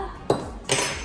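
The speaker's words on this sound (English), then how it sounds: "let us start separating the egg yolks and the whites" Eggs being cracked and separated into yolks and whites for a milk egg custard, with two sharp, close clinks of shell against a bowl about half a second apart.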